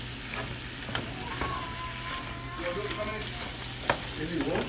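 Meatballs fry in a pan with a dense, close sizzle and crackle, broken by a few sharp spatters and light scraping sounds.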